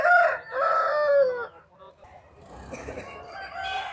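A parrot-beak long-tailed rooster at a poultry market crows loudly and close, one drawn-out call, followed by market bustle and clucking.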